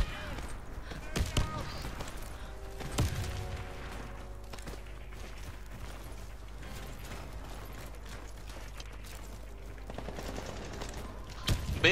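Bursts of video game gunfire crack out in quick clusters, with mechanical clicking and a low hum beneath, while players talk over the action.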